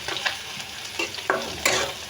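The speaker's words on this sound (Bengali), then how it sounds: "তো পেঁয়াজটা আরেকটু ভেজে নেব।" Onion frying in a pan, a soft, steady sizzle with a few brief stirring scrapes, fairly quiet and close, no voices.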